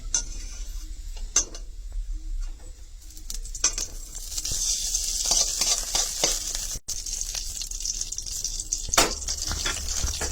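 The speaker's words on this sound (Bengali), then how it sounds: "প্রথমে গ্যাসটা ধরাইয়া আমি কড়াইটা বসাইছি, আর এখন 1 চামচের মতো ঘি দিয়ে দিলাম এখানে।" About a spoonful of ghee heats in a wok on a gas stove, giving a continuous close sizzle and crackle with scattered clicks and utensil scrapes, with no one speaking.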